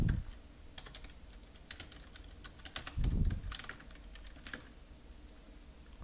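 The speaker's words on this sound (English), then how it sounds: "I'll just type it." Computer keyboard typing during Slackware 14.0 Linux configuration, a close run of quick, light key clicks in short bursts with brief pauses, a couple of soft thumps mixed in, no voice.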